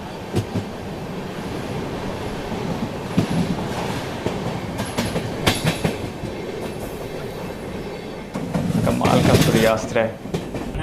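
The Kafiyat Express of Indian Railways rumbles along the rails with continuous clatter and wheel noise that swells louder near the end, while a person speaks briefly inside the coach.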